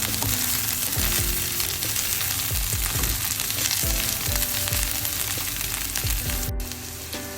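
Curry chillies sauté with carrot and onion in a pan, a loud, continuous sizzle broken by repeated scraping strokes of stirring at a fairly regular pace.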